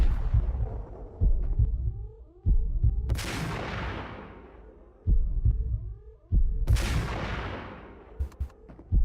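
Slow-motion bullet time in Max Payne plays as deep throbbing heartbeat-like thuds and low booming rumbles, with two drawn-out roaring gunshot swells stretched across several seconds.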